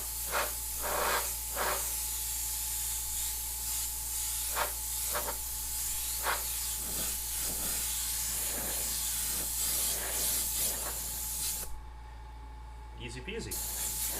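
An airbrush sprays paint for lowrider-style artwork, giving a steady close hiss with short bursts as the spray starts and stops, over a low constant hum and occasional voice sounds.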